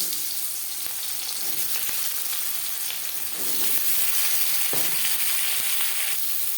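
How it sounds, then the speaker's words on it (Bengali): Chopped onions frying in hot refined oil, a loud, dense, continuous sizzle and crackle close by, with faint stirring scrapes and no voices. "চার চামচ রিফাইন্ড অয়েল গরম করে নিয়েছি এবার দিয়ে দেবো পেঁয়াজ"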